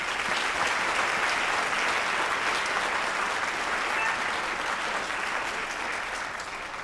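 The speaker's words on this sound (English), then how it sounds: "Let's give them a round of applause." Audience at a 5th grade band concert applauding, a dense, steady wash of clapping that carries on for several seconds before easing slightly.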